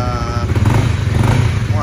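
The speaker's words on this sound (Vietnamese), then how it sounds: "Nổ máy đạn con cho anh em nghe thử cái dòng CBR này ha" A 2019 Honda CBR motorcycle engine idles close by with a steady, throbbing rumble while someone talks over it.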